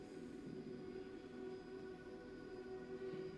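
Train in Little Nightmares 2, a continuous rumbling rail roll with sustained tonal droning, moderately loud and steady throughout with no talking.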